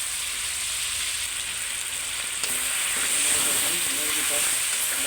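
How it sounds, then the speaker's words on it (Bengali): Desi chicken sautéing with spices in hot oil gives a loud, steady sizzle and hiss that swells a little midway, close up and with no voices. "এ পর্যায়ে আমি দিয়ে দেবো মুরগি। মশলা দিয়ে সুন্দরভাবে কষা নেব"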